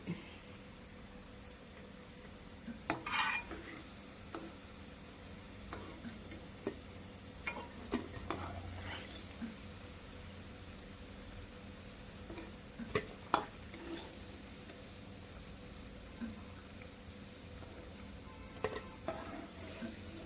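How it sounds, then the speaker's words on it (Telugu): Veg manchurian fries slowly in a pan with a faint, low sizzle, while sparse clicks and taps from unhurried stirring stand out against the quiet background. "అన్నీ ఇలాగే ఫ్రై చేసుకుందాము. ఇలా ఫ్రై అవ్వాలండి. నెమ్మదిగా ఫ్రై చేసుకుంటేనే బాగుంటుంది."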